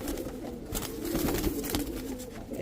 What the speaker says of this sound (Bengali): এটা ভাই বাঘা কবুতর। বাঘা কবুতর।